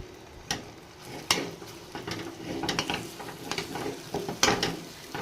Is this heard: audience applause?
no